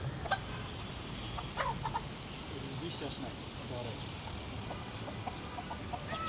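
Chickens clucking in short, scattered calls over a busy background, with people talking nearby.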